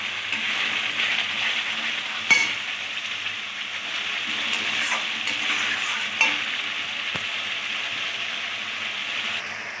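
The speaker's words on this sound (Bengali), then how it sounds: "যতক্ষণ তেলটা না ছাড়বে ঠিকমতো মশলা কষিয়ে যাবো।" Spices sizzle steadily in hot oil while being stirred for a chicken curry, a soft continuous frying hiss with a couple of brief scraping clanks from the spoon.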